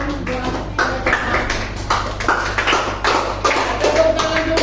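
Students in a classroom clap their hands, a dense, uneven burst of close applause lasting several seconds with a few voices mixed in.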